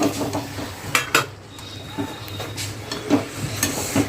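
Finely chopped spinach is stirred into potatoes in a pan, with a spoon scraping and clinking against the metal in uneven strokes over a faint sizzle.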